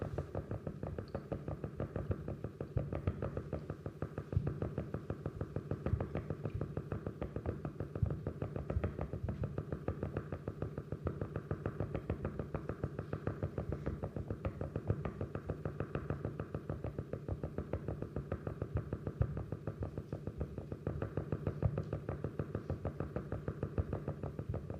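An underwater field recording of burbot (Lota lota) fish sounds: a dense, steady train of low pulsing knocks that runs continuously over a murky background, even in level throughout.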